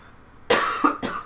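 A single man's cough, then a second shorter one, close to the mic after a quiet start, sharp and throaty from someone who has been sick for a few days.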